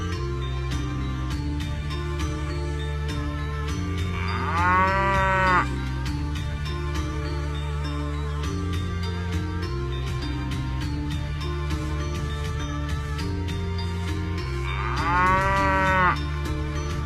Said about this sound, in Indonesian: Kemudian sapi itu ditambatkan di halaman depan rumah Syekh Jafar